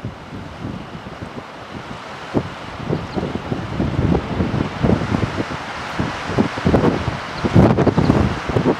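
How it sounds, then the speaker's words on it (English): Strong cold wind buffets the microphone at a snowy lookout, a dense steady roar with gusty rustling surges that build toward the end. "It's so windy in here and cold"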